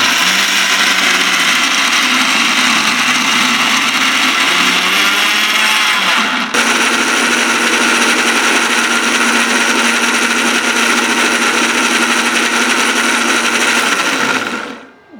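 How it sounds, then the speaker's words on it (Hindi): A grinder blending roasted peanuts with honey and salt into peanut butter, a loud continuous motor whine with a brief dip partway, running steadily until it winds down at the end. "अब ग्राइंड करते हैं।"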